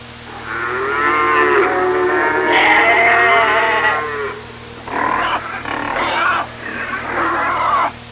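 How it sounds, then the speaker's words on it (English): Farm animals call out loud and close, with a long wavering sheep bleat and lowing cattle running for about four seconds, then several shorter, broken bleats after a brief pause. "It's our animal friends, the sheep and cows and pigs."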